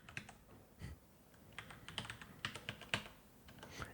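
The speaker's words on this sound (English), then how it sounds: "Type in a password" Close, quiet typing on a computer keyboard as a password is entered, a quick irregular run of light key clicks.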